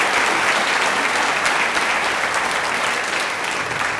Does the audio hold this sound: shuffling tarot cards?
no